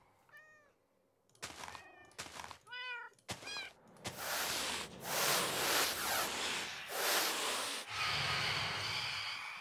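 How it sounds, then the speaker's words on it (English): A cat in the Minecraft video game gives several short meows, then breaks into loud, harsh, hissing screeches in long rasping bursts that dominate the rest of the clip. "It's so terrifying when you hear a cat scream like that."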